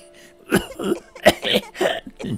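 A narrator's voice acts out a coughing fit for a character named Sarah Ruth, a run of six or seven harsh, close coughs with brief catches of breath between them.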